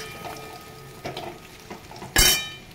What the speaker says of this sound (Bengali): এইবারে দিয়ে দেবো ধুয়ে রাখা মুগ ডাল।